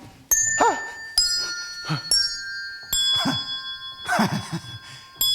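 A clock bell strikes the hour with several separate chimes that ring out and decay in turn, while a voice speaks between and beneath them in a quiet room.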